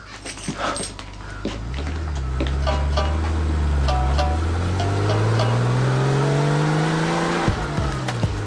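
A car engine revs up and runs as the car drives off, a loud rising then falling drone with gear-like pitch sweeps, plus a whining tone that resembles a dog's whimper early on.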